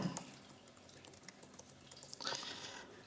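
Quick, light keystrokes on a computer keyboard as a company name is entered into ERP software, a soft irregular patter of clicks, close and quiet, with no talk.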